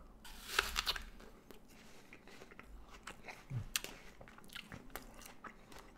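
Someone bites into an organic Granny Smith apple and chews it, with a few crisp crunches early on, then softer, quieter mastication close to the mouth.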